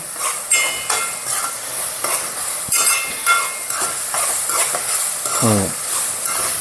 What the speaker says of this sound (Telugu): అల్లం పేస్ట్ కూడా బాగా వేగాలి ఉల్లిపాయల్లోని